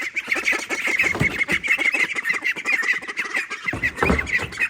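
Young ducks crowd a brooder and call nonstop, a close, dense chorus of rapid overlapping quacks and peeps with no gaps.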